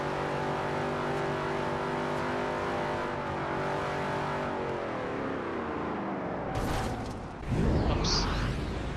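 A Shelby Daytona in Forza Horizon 2 sustains a steady, droning engine note, then the pitch drops as the driver shifts down and the engine roars louder again near the end.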